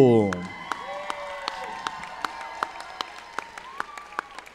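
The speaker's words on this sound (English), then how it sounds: "A round of applause for your master of ceremonies this afternoon, Nettie Poole." Scattered applause for the master of ceremonies at a girls' robotics competition awards ceremony, thin and fairly sparse claps spread across the room, with a voice briefly speaking at the start and a faint tonal hum underneath.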